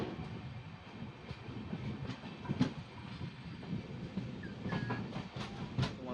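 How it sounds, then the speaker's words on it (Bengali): Karwar Express 16516 rolling along the rails in Karnataka on the Sakleshpur–Subramanya Road route, a steady rumble with recurring clacks of the wheels, heard from on board with no voices. "অনেক দৌড়াদৌড়ি করে আসার পর অবশেষে ট্রেনটাকে ধরতে পারলাম আমি।"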